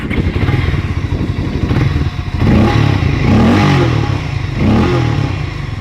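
Harley-Davidson X440 motorcycle engine revving loudly and close through its exhaust, a steady throaty drone that swells into stronger blips of throttle in the second half, with no talk over it.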